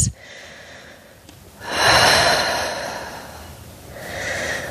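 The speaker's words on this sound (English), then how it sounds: "2 more deep breaths." Slow, deep breaths during a Pilates workout stretch, close and clear: a sharp inhale at the start, then a long, strong exhale and another rising breath near the end.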